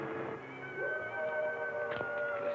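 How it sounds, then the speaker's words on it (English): Frightened dogs howl in an old horror film, with long, wavering tonal cries that rise and hold at a moderate distance over a rough background of murmur and noise. "Do they too hear the howling of the frightened dogs?"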